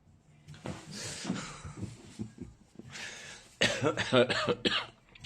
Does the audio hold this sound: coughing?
yes